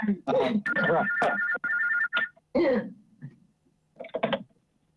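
A telephone rings with a steady electronic tone during a committee meeting, heard amid throat clearing, coughs and brief voices, then stops, leaving a quiet room.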